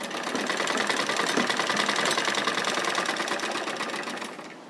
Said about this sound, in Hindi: हम अभी सिलाई करके देख लेते हैं किस तरह से आ रही है